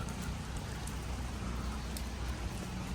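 Light rain falls steadily at a temple grounds with cherry trees, a dense, even hiss of drops close by, continuous for the whole stretch with no voices.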